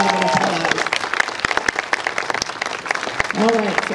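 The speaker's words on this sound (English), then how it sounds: "So let's give that a big round of applause." Applause from a crowd at the ribbon cutting for the Modesto Children's Museum, a few seconds of steady clapping with voices talking over it throughout.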